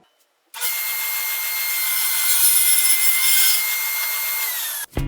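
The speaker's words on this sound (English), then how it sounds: "I'm going to cut a 3-inch chunk out of it for my oven rack puller" A saw cuts steadily through a chunk of walnut wood, sliced three inches off a longer piece, with a continuous, close rasping roar that starts after a brief silence and runs for over four seconds before stopping abruptly.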